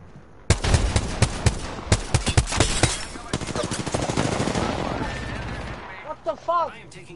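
Rapid automatic gunfire in a video game rattles in dense, loud bursts for a few seconds, then fades into a noisy wash, with brief voices near the end.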